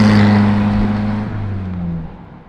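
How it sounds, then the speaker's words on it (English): A 1962 Toyota Stout custom truck fitted with a retrofitted forklift motor runs close by, giving a steady droning hum that gradually fades and drops off near the end, with no talking. "the motor in this is basically a retrofitted forklift motor"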